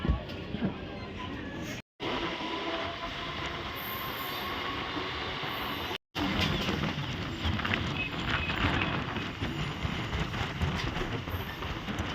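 A Sealdah–Tarakeswar local train runs with a loud, steady rumble and rattle of wheels and carriages throughout, with a couple of brief dropouts. Faint voices mix into the noise.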